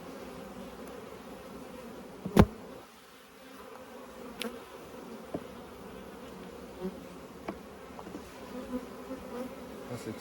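Honeybees buzzing around an open hive of stacked brood boxes, worked without a smoker; a steady low insect drone runs throughout, with a sharp close knock or tap early on and scattered small clicks.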